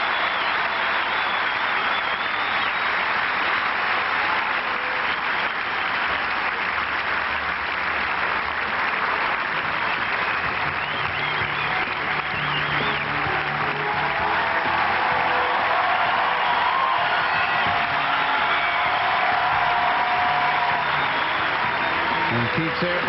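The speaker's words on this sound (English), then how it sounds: "Pete Sampras bathes in the warm applause from the crowd here at Court Central" Sustained crowd applause on Court Central at Roland Garros during a 1999 tennis match, a dense steady roar of clapping filling the whole stretch without letup.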